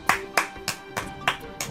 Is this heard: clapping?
yes